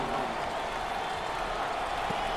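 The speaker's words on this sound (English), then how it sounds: "I think the home fans are going crazy." A home crowd at a college basketball tournament game roars in a dense, sustained wall of cheering and noise, loud and unbroken from start to finish.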